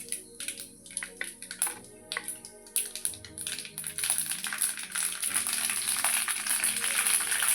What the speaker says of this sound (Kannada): ಈಗ ಸಾಸಿವೆ ಹಾಕ್ಕೊತೀನಿ.